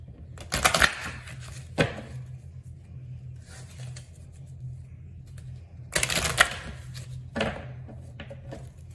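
Cat oracle cards being shuffled by hand in a few separate bursts of quick riffling and slapping, with quiet gaps and a low background hum between them.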